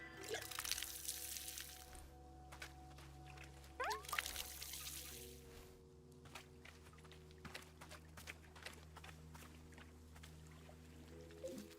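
Water pouring into a watering can in the Wanderstop video game, a steady trickling stream over soft looping background music, moderately quiet and continuous.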